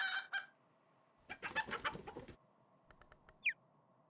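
A video game chicken clucks in short, faint bursts amid quiet gaps, with a brief squawk near the end and no speech.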